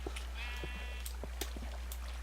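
Sheep bleat in Minecraft inside a sheep shearing facility, with one clear wavering bleat and several short clicks over a steady low hum, fairly faint.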